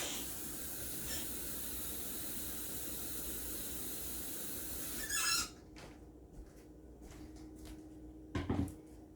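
Hot water runs from a tap into a measuring cup with a steady rushing hiss for several seconds, then shuts off with a squeak, followed by a brief clatter nearby.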